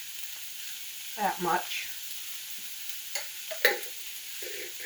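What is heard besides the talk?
half an onion sizzling as it is added to the pan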